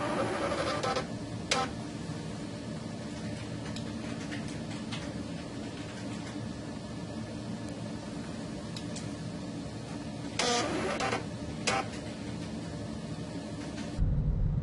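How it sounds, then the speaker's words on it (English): Bluetooth-enabled printer printing a pasteurization report and labels for milk bottles, a steady mechanical whirring and buzzing hum running throughout, with a few brief louder clicks and feed noises near the start and middle. "The user can then print a pasteurization report and labels for milk bottles using a Bluetooth-enabled printer."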